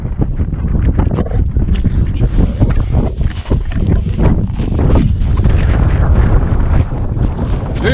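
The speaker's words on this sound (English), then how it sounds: "It's very windy up today too." Strong wind roars and buffets steadily against the microphone on a frozen lake in southern New Hampshire, loud and continuous with no pauses.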